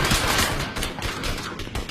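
Dense, continuous automatic gunfire from a video game machine gun crackles loudly and close for a couple of seconds, with no voices.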